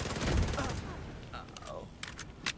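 A burst of gunfire from The Division 2, a loud rattling volley at first that fades into scattered sharper shots and game effects, with a voice speaking around the shooting.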